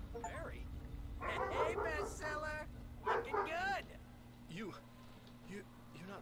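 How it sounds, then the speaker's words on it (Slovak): A dog in a room barks and yips in several short bursts, fairly close and moderately loud, with softer whimpering yelps between them over a low background hum. "pes akurát vyštekuje"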